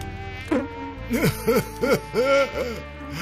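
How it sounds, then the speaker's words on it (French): Mosquito buzzing in a comic sound effect, a whining insect drone rising and falling in several short swooping bursts, close and fairly loud, with speech-like tones woven through. "Mais la moustique fredonne toujours dans ma tête."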